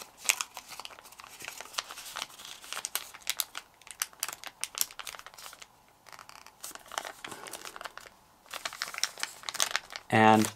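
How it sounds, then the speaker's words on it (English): Paper is folded into an origami light switch, producing close, continuous crinkling and crisp creasing rustles in busy bursts, with a brief pause midway and a voice speaking at times. "Now fold this edge to the top."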